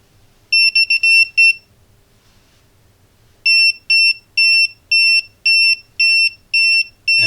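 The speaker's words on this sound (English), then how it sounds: "And when you go closer, the beeping is faster, which is super nice." A pen-style multimeter in non-contact voltage tester mode beeps in high electronic pulses, first a quick cluster of four, then after a pause a steady run of seven evenly spaced loud beeps.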